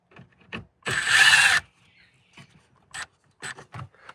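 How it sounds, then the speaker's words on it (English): A power screwdriver spins out a T20 screw from a Mercedes head unit in one short, close burst of buzzing, followed by scattered light clicks and handling taps. "there is two T20 screws here, okay? And just want to unscrew those the same way we've done those ones there before"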